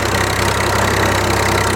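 A Swaraj 735 tractor engine runs steadily in a low gear with a Param sugarcane weeder attached in a field, giving a continuous, loud, close idling drone with a regular low knock.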